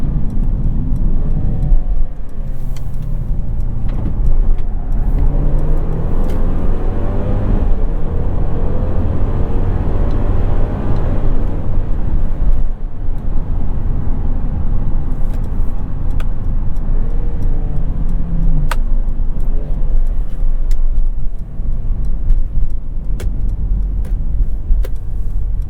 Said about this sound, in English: this 9-speed automatic and this 2-liter turbo just don't play together really well.